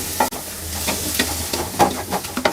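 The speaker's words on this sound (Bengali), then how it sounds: "ভালোভাবে নেড়ে চেড়ে মিনিট 5 এটাকে রান্না করতে হবে" An egg mixture with tomato and coriander is stirred in a hot pan, sizzling softly. Several sharp, irregular spatula scrapes and clinks come through close up.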